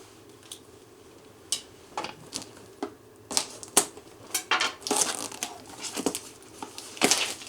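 Western Digital 8TB Easystore hard drive packaging cut open and unpacked, with scattered sharp cuts, crinkling plastic and cardboard rustles building into busier handling, close and without voices.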